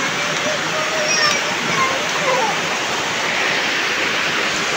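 Heavy rain falls steadily over a farm field, a loud, continuous wash of dense downpour with no breaks, close and enveloping.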